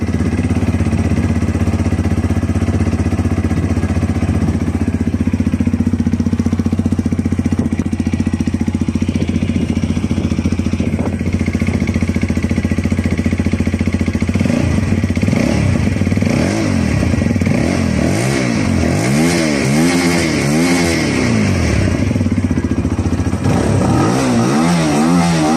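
A close, loud Lexmoto LXR 125 motorcycle engine idles steadily, then is blipped through several rising and falling revs before settling back down.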